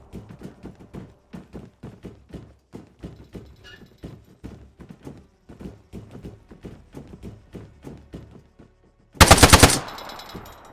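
Bursts of machine gun fire from the ArmA 3 video game rattle in short rhythmic strings of sharp shots, fairly close, ending in a sudden loud blast.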